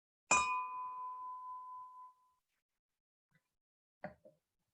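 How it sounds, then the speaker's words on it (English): A bell struck once at the close of a period of silence in a worship service, ringing out clearly and decaying over about two seconds, followed by a couple of faint clicks. "I will ring the bell at the end of the silence."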